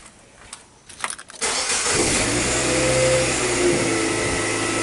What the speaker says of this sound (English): If I reset it like this, I believe the car should start right now.